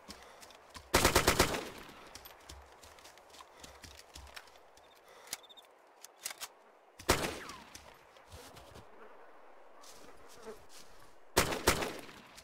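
Gunfire in the DayZ Epoch video game comes as a few loud, brief bursts of several rapid shots. The bursts are spaced seconds apart, with quieter rustling and clopping game sounds between them.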